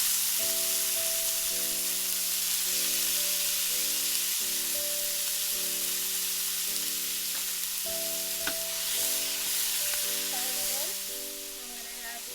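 Garlic frying in about three tablespoons of oil for an eggplant dish, a constant soft hiss of sizzling beneath a steady tonal hum from a kitchen appliance, with occasional small clinks.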